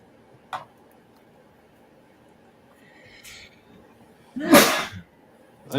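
A single sharp sneeze bursts out close by, loud and broad, after a quiet stretch holding a couple of smaller brief sounds.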